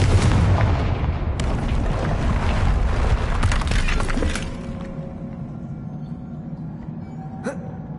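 A spell-cast explosion in Hogwarts Legacy bursts loudly with shattering debris and rumble for several seconds, then fades into a quieter tail with a faint magical chime near the end.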